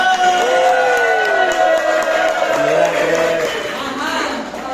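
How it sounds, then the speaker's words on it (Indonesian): Classroom students clap and cheer together during an active-learning lesson, lively overlapping voices and whoops mixed with clapping, loud and close throughout. "tepuk tangan"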